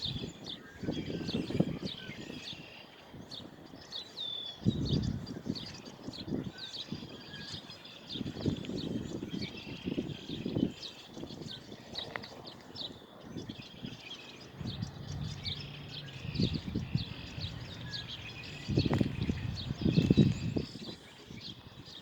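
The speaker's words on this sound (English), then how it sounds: "There's a bird flying above me." Birds chirp outdoors with repeated high tweets across the whole stretch, and bursts of low rumble or wind noise come and go underneath; the scene is quiet and there is no talking.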